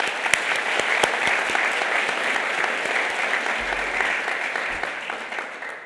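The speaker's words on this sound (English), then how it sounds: "Give yourselves a round of applause." University graduates applaud at a graduation ceremony, a steady, dense wash of clapping from a large crowd in a hall that keeps going without a break.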